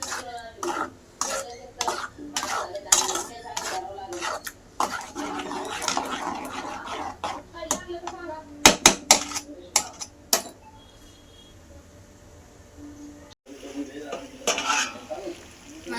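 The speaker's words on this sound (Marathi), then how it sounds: "त्याला मस्त टाकून परतून घ्यायचं." Masala for a village-style chicken rassa curry sautéed in a large pot, repeated scraping and clanking of a spoon against metal in bursts, with a faint sizzle between strokes and quiet stretches.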